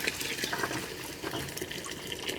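Powdered milk is stirred into water for chitoi pitha, a continuous close swishing and sloshing of liquid with soft splashes throughout and no voices.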